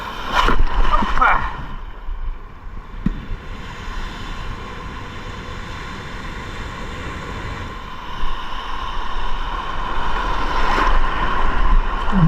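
A fishing boat pitches on big sea waves near Bactol Island, with water sloshing and splashing against the hull, a steady engine hum behind, and people talking and exclaiming at the start.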